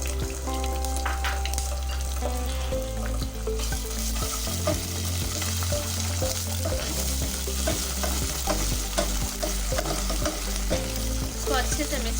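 A spoon stirs onion, ginger and garlic paste frying in a pan, with steady sizzling and repeated scraping strokes against the metal. The sound is close and busy, and a brief low hum sits underneath near the start.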